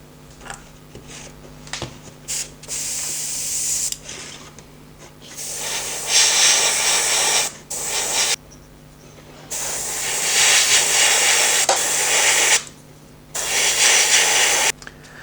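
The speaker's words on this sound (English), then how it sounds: "And now I spray rims with a grey color." Grey spray paint hissing from an aerosol can onto 3D-printed 1/10 scale Audi Rotor rims, close, loud bursts of spraying broken by short pauses, repeated many times.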